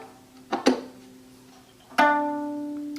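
Two soft, muted bowed string notes, the first short and the second sustained, with a dampened, dull tone in a quiet room.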